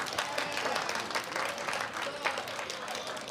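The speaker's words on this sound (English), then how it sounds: "Yes, you can clap for the division as well." An indoor audience at a school district news conference breaks into steady, dense clapping that keeps going evenly at moderate volume.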